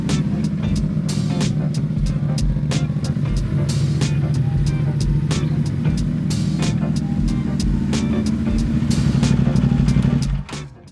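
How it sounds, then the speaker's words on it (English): A CFMOTO 450 SS motorcycle engine idles while warming up, giving a loud, close, steady low rumble with a rapid regular pulse. It runs alone for about ten seconds and then drops away at the end. "currently warming the bike up"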